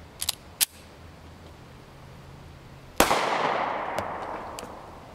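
A single sharp report from a Springfield XD40 subcompact pistol firing .40 S&W Winchester T-Series 180gr JHP rounds, loud and close with a long decaying tail, preceded by a few small clicks and handling noises.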